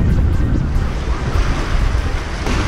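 Waves break on a cold beach with rocky sand, a steady broadband roar of surf mixed with wind buffeting the microphone, continuous and close, with no voices.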